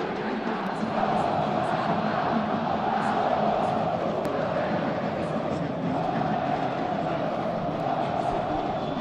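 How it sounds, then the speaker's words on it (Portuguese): A dense, roaring stadium crowd of football fans at a Potiguar final between América-RN and ABC, producing loud, sustained, unbroken noise throughout with a commentator's voice talking over it. "o torcedor tá um barulho muito grande, um barulho ensurdecedor aqui"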